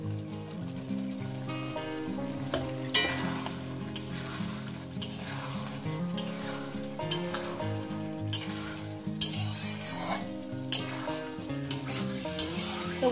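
Spice masala with tomato being sautéed in a pan for a Bengali fish curry with potatoes and flat beans, a continuous sizzle under music, with a few scraping stirs and louder spatters.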